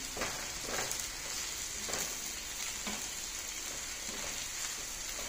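Ivy gourd curry with fresh coconut sizzles and fries in a pan over a flame, a steady crackling hiss broken by soft scraping stirs at regular intervals, with no voices.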